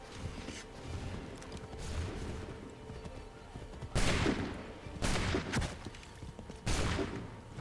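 Gunfire and booming bursts from the video game Assassin's Creed III, a battle with powder carts, come in several distinct volleys over a continuous din of distant combat.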